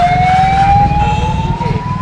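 An ambulance siren among the Kumbh Mela crowd in Prayagraj, a loud, close, steady wail climbing slowly in pitch over a low rumble of traffic and crowd.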